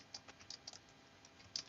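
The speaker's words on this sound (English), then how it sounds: "Typing too fast and trying to talk at the same time." Faint, fast clicking on a computer keyboard, irregular keystrokes tapping quietly close by.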